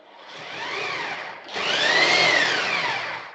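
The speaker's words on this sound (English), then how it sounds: "So with the miller, I can power up the drill." A power drill driven by a Picote Mini Multi-Cutter pipe-cleaning machine runs up with a steady whirring whine, dips briefly, then spins up again higher and louder, close and alone.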